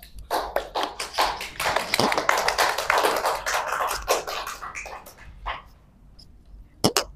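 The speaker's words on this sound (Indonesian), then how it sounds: "Berikan tepuk tangannya dulu untuk Mas Jovan" Students in a classroom clap for a classmate named Jovan after a science practical demonstration, a dense burst of hand claps lasting several seconds that thins out to scattered final claps.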